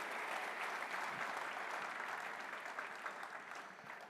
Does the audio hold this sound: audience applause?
yes